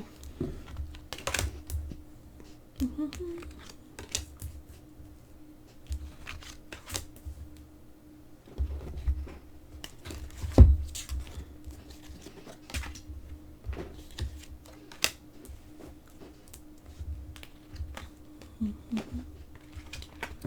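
Crisp riffling and tapping of oracle and angel cards being shuffled, repeated in short bursts with a soft steady hum underneath; no voices.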